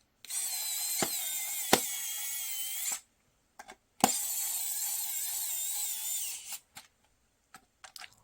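A KAIWEETS ES20 electric screwdriver driving a screw: two sustained high-pitched motor whirs of about three seconds each, separated by a short pause, with sharp clicks along the way and a few small taps at the end.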